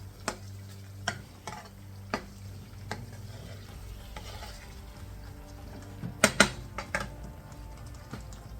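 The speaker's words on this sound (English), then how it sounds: "You want a little squeeze of lemon juice here. Stir that in." Lemon juice is stirred into chicken bhuna in a hot pan, with a faint steady sizzle broken by a series of sharp spoon clicks and scrapes, a brief cluster of louder knocks near the end, no voices.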